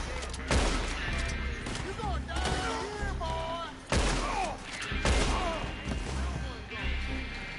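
Red Dead Redemption 2 Online gunfight: several sharp, loud gunshot blasts land at irregular intervals, with booming reports ringing out between them over game background noise.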